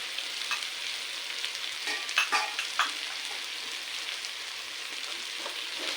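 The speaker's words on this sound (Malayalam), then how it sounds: "മീഡിയം ഫ്ലെയിമിൽ ഇട്ടിട്ട് ഇതൊന്നിങ്ങനെ വഴറ്റിയ ശേഷം മുളകൊക്കെ ഇതിൻ്റെ മുകളിലൊന്ന് പിടിക്കണം" Bitter gourd sautéing with spices in a pan over a medium flame, giving a steady, soft sizzle with occasional stirring scrapes and light crackles, no voices.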